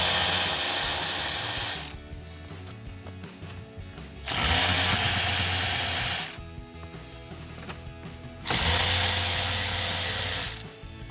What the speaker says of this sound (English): The first step to installing the remote start kit will be removing the 3 7mm screws